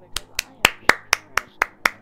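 Eight sharp, evenly spaced claps ring out one after another at a steady beat, close and crisp, with a low background hum underneath.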